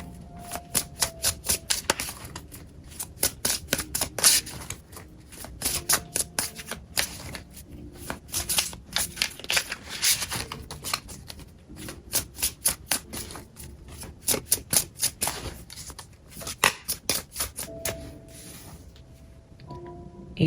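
A tarot deck is shuffled and drawn during a psychic reading, repeated rapid riffling bursts of crisp card snaps close by, in clusters with short pauses between them.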